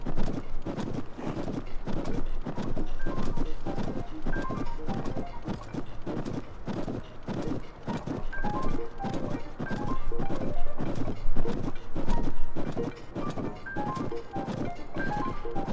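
Horse hooves clip-clop steadily in Zelda: Tears of the Kingdom, a continuous rhythmic trot of hoofbeats that stays loud and close throughout, with occasional game sound effects layered over it.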